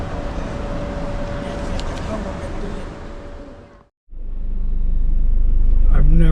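A truck loaded with many motorbikes rumbles past on a road in Thailand, its deep engine and road noise loud and close, cutting off abruptly and then returning with a heavy, building low drone.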